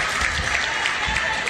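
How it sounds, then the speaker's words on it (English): Loud, sustained applause from a crowd at a women's basketball final, honoring the runners-up, with dense even clapping throughout. "if we could give a big round of applause to our runners-up, the Western Creek Dodgers"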